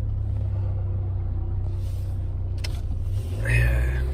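Engine of a Chevy C20 rat rod truck running steadily with a low rumbling idle, then briefly revving louder near the end, close by with some background noise.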